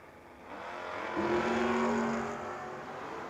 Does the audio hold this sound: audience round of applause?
no